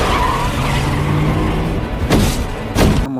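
A car skids hard and rolls over in a film scene, a loud continuous tire roar and scrape topped by two sharp crunching impacts near the end before an abrupt cut, close and with no talk.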